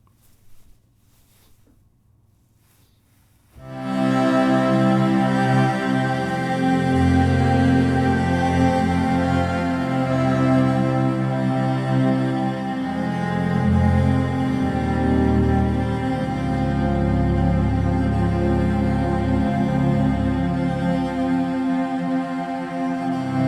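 After a few seconds of near silence, a solo cello sample library plays a rich sustained bowed melody, warm and resonant with long legato notes, alone and steady.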